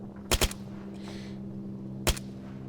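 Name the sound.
gunfire from the video game ARMA 3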